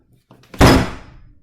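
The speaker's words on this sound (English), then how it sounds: "The classroom door slammed open" A single heavy classroom door slams open, close and loud, booming briefly before fading out.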